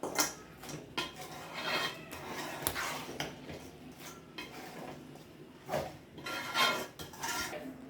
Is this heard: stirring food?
yes